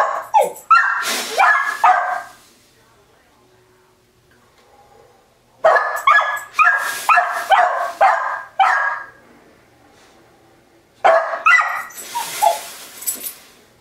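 A dog barks and yips in three loud close bursts, each a quick run of sharp barks with whimpering yips, separated by quiet pauses.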